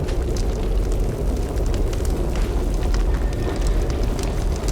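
A nuclear strike explodes in a video game, unleashing a loud, sustained roar of blast rumble and crackling debris that fills the whole stretch without letting up, with no talking over it.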